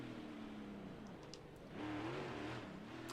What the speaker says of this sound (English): The engine sounds are updated.